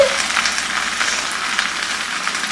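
Thinly sliced red onion sizzles and fries steadily in a pan for a Spanish tortilla, a close, continuous hiss with no talk over it.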